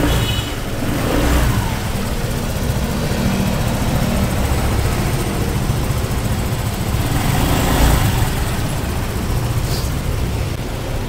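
A Honda PCX scooter engine, brought to a repair shop with an ECU fault, runs steadily close by and is revved a couple of times, rising and settling back to idle.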